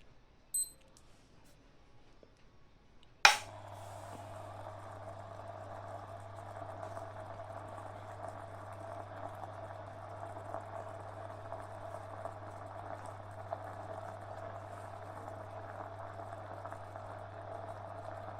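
A steam inhaler filled with cold water clicks on, followed by a steady low hum and a soft rising hiss as the water heats toward boiling, close and quiet.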